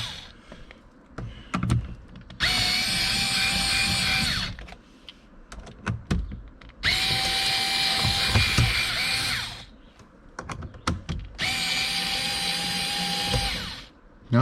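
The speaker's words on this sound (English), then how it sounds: "this is one of my favorite tools, this small little Mastercraft drill I got" A small Mastercraft cordless drill backs screws out of a car speaker in a Lamborghini Murcielago. Three sustained whirring runs of several seconds each, separated by clicks and handling noise, close and loud.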